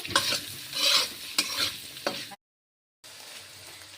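Potato peels with salt and turmeric are stir-fried in a pan, with loud scraping stirs and sizzling bursts, then a sudden gap of silence followed by a quieter steady fry.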